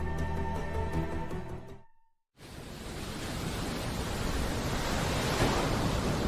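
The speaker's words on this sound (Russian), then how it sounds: "Океан." Ocean waves make a loud, continuous broadband roar of surf. It starts after a brief moment of silence that follows fading music and keeps going steadily without any voices.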